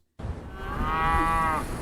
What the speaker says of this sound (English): Listening to these cattle,